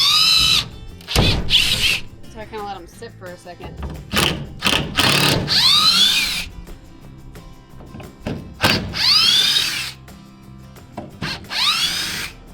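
A power drill fitted with a star bit drives out hot screws from wood in short, loud bursts, each whirring spin separated by a pause, while a person talks between the runs.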